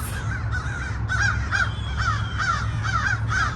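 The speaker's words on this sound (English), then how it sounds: "all of these birds came out of nowhere and started making up a lot of noise right over here in this one area of the cemetery" A flock of crows caws loudly and repeatedly overhead in a cemetery, harsh calls overlapping in irregular bursts over a steady low rumble of background noise.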